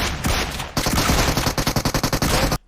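Rapid automatic gunfire from PUBG Mobile, a dense loud burst of shots followed by a string of distinct evenly spaced single reports, ending abruptly in silence.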